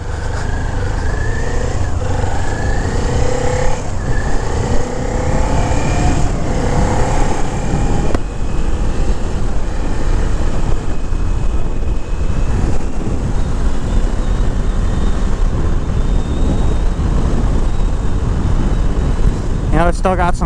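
A small-cc motorcycle pulls away from a traffic light, its engine rising through revs with loud wind buffeting over the microphone, while a rider talks over the noise.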